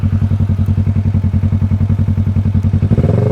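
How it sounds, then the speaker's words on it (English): A motorcycle on an early morning ride throbs with a loud, close, rapid regular engine pulse, rising slightly in pace near the end, with no talk over it. "I love just the sound of the motorcycle, the feel of it."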